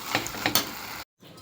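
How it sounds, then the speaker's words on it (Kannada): Minced mutton keema being stirred into fried masala in a pan, a few soft scraping and clattering strokes of a spoon close by, then a brief cut to near silence. "ಇದಕ್ಕೆ ಈಗ ವಾಶ್ ಮಾಡಿ ಇಟ್ಕೊಂಡಿರುವಂಥ ಕೈಮಾನ ಹಾಕಬೇಕು. ಈಗ ಇದನ್ನು ಚೆನ್ನಾಗಿ ಮಿಕ್ಸ್ ಮಾಡ್ಕೊಳ್ಳಿ."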